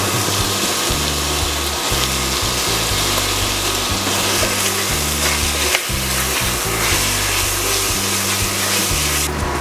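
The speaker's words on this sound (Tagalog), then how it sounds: "hintayin natin mag-render ng fats ang ating bacon" Bacon sizzles steadily in a pan as its fat renders for fabada, a constant crackling fry sound under a looping background music beat.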